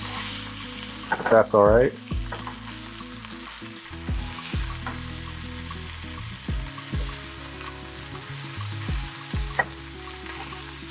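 Beef bulgogi frying in a pan after being flipped, a loud splatter at the turn settling into continuous crackling sizzle with scattered pops, close up, with a brief spoken remark.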